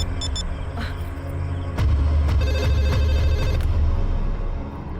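A telephone rings on a call: a quick burst of electronic trills at the start, followed by a steady low rumble and faint tonal background, with no speech.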